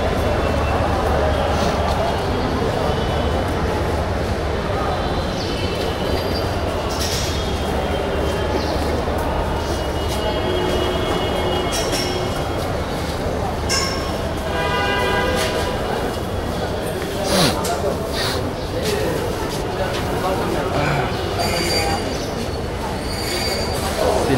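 A train passes through a railway station in Bangladesh, its continuous rumble and squealing wheels running loud throughout, with platform crowd noise and voices mixed in.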